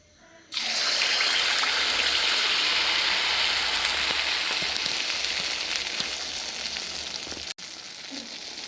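Kerala nei appam fry in hot oil with a loud, constant close sizzle that bursts in suddenly and holds steady, with a brief cut near the end.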